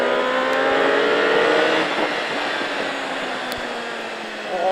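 Race car at the Pau-Arnos circuit accelerating at full throttle out of a corner, the engine loud and close with rising pitch as it climbs through the revs.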